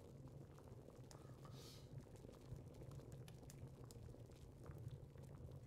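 Water boiling in a pot on a stove in the game Mon Bazou, a faint, steady bubbling and rolling simmer with small pops, heard close and continuous.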